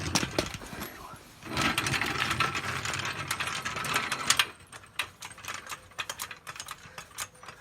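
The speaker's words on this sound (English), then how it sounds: "We're going to take out the jack stand and then tighten up the lug nuts." A ratchet wrench tightens the lug nuts on a car wheel during a tire change, its rapid clicking pawl running in quick bursts up close, then slowing into scattered clicks.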